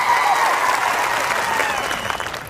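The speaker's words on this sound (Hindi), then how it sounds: "एक बार जोरदार आपके लिए तालियां बजा दी जाए" Loud, steady applause from a seated audience at a World Indigenous Day gathering in India, dense clapping filling the whole moment with faint crowd murmur and a voice underneath.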